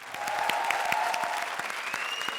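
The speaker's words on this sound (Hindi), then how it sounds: "जोरदार तालियां भारती के लिए।" Studio audience applause greets a comedian walking onstage at a televised comedy show, a dense steady wash of clapping filling the whole moment, with a faint voice or tone running underneath.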